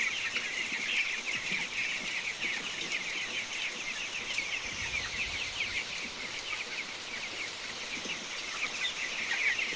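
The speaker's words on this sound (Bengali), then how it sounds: "এখানে মুরগিগুলো খাবার খাচ্ছে।" Chickens at a small hobby farm moving about and pecking at feed, giving a steady dense chatter of soft clucks and bird calls close by, with a continuous hissy background and no talking.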